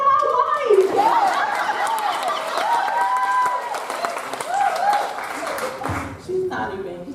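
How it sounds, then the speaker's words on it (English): A crowd at a poetry performance applauds and cheers, loud and close, with laughter and chatter mixed in and a voice speaking over the clapping throughout, tapering off near the end. "Clap it up for my wife"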